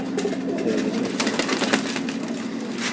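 Pigeons coo softly while being handled, with low murmuring calls and faint rustling over a steady background hiss, and no voices.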